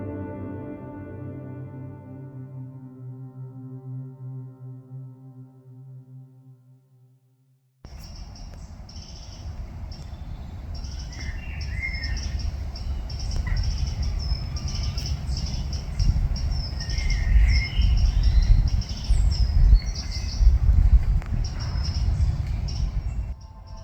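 A bird calls in a Scottish park, with bright, repeated chirps over steady outdoor background noise. A low, sustained tonal hum comes first and breaks off before the calls begin.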